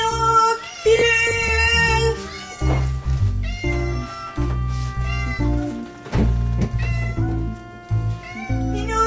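A house cat meows repeatedly while being given a pill, with several drawn-out, insistent cries close up over steady background music.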